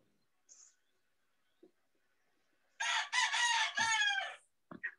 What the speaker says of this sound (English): Who has a rooster?